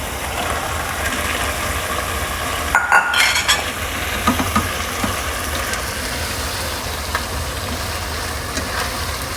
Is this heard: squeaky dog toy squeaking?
no